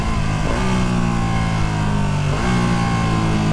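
A Ducati Panigale V2 engine revs loud and close on a wet ride, with harmonic pitch sweeps as the auto-blipper blips through quick downshifts. Wind rush sits steady under the engine.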